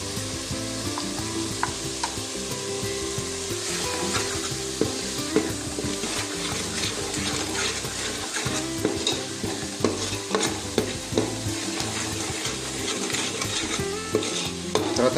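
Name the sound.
frying and stirring masala paste for crab curry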